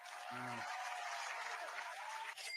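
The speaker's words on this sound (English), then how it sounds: "Let's give him a round of applause again, right?" A crowd claps steadily for a couple of seconds, a dense patter of applause with a short low tone at the start.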